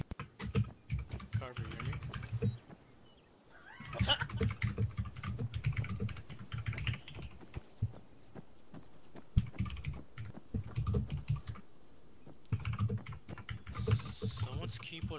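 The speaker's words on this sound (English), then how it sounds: "Someone's keyboard is really loud." Loud, clicky blue-switch computer keyboard typing comes in rapid bursts and mashing during ArmA3 gameplay, with several voices talking over and between the keystrokes.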